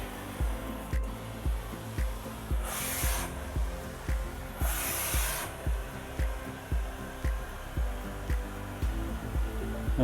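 Karcher steam cleaner working over a very dirty floor near a doorway with a fresh cloth attached, a steady rhythmic scrubbing swish repeating about once a second, with two brief bursts of hissing steam.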